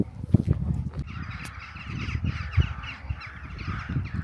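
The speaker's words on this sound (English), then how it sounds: "Look at these birds." Crows caw repeatedly in parkland at a stately home, harsh calls overlapping at a moderate distance over a low rumble of outdoor background noise.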